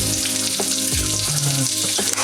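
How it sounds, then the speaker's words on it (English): Bacon for carbonara fries hard in a pan, a loud close sizzle with sharp spits and pops over a steady hiss, brief and without speech. "I gotta get my bacon before I burn it anymore."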